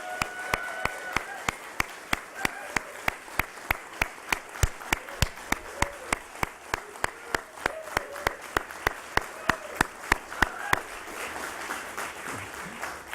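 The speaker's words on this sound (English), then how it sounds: "deserves a big round of applause" Sparse, sharply separated hand claps from a small group at the Nasdaq closing bell ceremony marking Hurco's 50th anniversary, a steady run of crisp claps that thins out toward the end.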